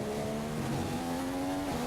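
A Formula One car in the F1 2015 racing game at the Chinese Grand Prix drones steadily at high revs, its engine tone holding and shifting slightly as it runs down a long straight.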